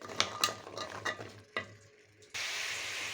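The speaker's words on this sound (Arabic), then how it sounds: "هاخده بقى تقليبه كده بسيطه مع البصله وقرن الفلفل كده" Onion and chili pepper fry in a pan while a utensil stirs them, a few light scraping clicks over a soft sizzle, then a sudden louder steady hiss takes over near the end.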